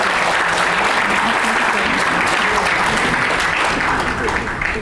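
A crowd at a book talk claps continuously, the dense applause staying loud and steady throughout with faint voices mixed in.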